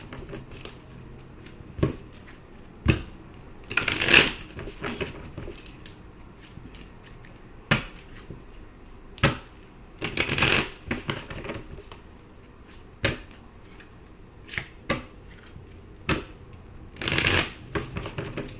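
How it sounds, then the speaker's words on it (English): Tarot cards are given a quick shuffle, producing a run of sharp, crisp riffling bursts spaced irregularly over several seconds, with softer handling and card taps in between, close up and without talk. "let's just give them a quick shuffle here."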